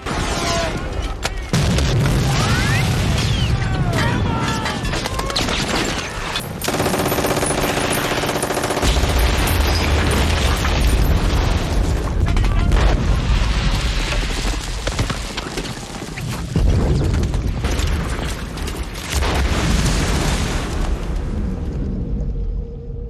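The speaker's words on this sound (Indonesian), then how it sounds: "Mereka terus dihujani tembakan dan bom dari pasukan Jerman." Loud, continuous battle din from a war film, with heavy booms, rumbling blasts and rapid gunfire crackle as German forces bomb and fire on soldiers heading for a beach, dense and overlapping throughout with no pauses.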